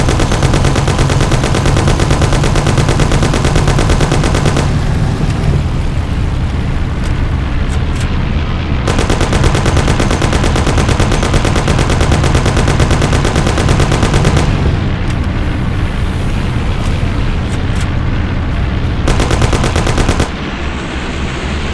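Sustained, loud gunfire from a shootout in the video game Mafia: The City of Lost Heaven, dense and continuous across the whole stretch with brief shifts in intensity, heard alone without talk.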